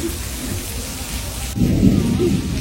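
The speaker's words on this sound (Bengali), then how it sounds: "আর প্রচুর পরিমাণে বৃষ্টি শুরু হয়ে গেছে।" Heavy rain pours steadily in the Rocky Mountains at Lake Louise, Banff National Park. Partway through, a deep rumble of thunder swells the downpour louder and nearer. No voices are heard.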